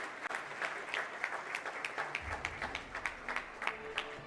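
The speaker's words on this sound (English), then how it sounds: "let's give them a loud round of applause, please" Applause from the audience at an award ceremony, fairly faint and distant, with a scattering of individual claps standing out over a low room hum.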